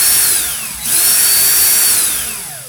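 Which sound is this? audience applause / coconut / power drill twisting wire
power drill twisting wire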